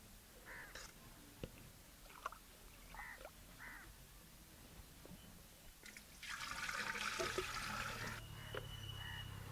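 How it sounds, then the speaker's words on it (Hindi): Water pours into a clay pot for a neem leaf solution, a rushing splash rising in the second half, outdoors with crows cawing intermittently in the background. "ये मटका है, इसमें हम नीम की पत्ती का घोल बनाने के लिए पानी डाल रहे हैं।"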